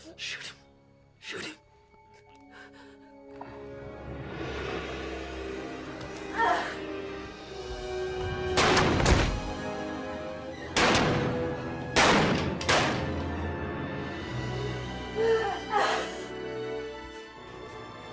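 Gunshots ring out in a tense film scene, several sharp loud cracks spaced irregularly amid tense background music and indistinct voices, each report echoing briefly.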